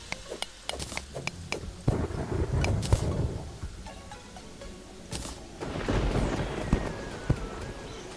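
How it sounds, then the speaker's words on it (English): Rain and thunder in the Terraria video game: a broad wash of rainfall with rumbling thunder swells and sharp clicks and pops scattered throughout, moderately loud with no talking. "Oh no, it's raining."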